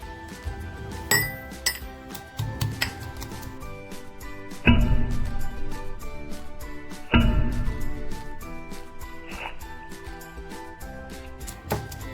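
Garlic pounded in a metal mortar and pestle, a series of sharp ringing clinks and heavier thuds at irregular intervals, close and fairly loud, with metallic resonance hanging after the strongest strikes.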